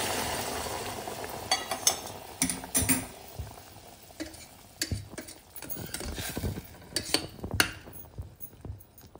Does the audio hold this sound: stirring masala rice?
yes